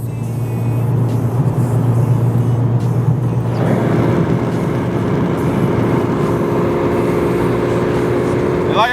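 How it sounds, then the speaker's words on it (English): A 2020 Mercedes-AMG CLA 45 with a turbo four-cylinder drones steadily from the cabin, its engine and road noise loud and continuous. Distinct exhaust pops are not clearly picked out. "It's got all these cars have the pops in the back."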